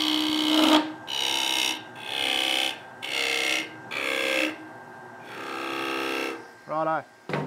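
A skateboard blank spins on a wood lathe while a tool cuts it in several loud, close bursts of whirring and scraping, with short breaks between them. Someone talks between the cuts.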